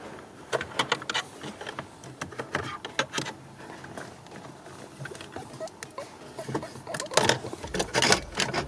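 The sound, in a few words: ratchet wrench turning a bolt on a Dodge Journey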